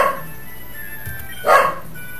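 Dogs bark in a Pokemon Flora Sky game, a couple of sharp yaps standing out from faint background game sounds, the second bark louder and brighter.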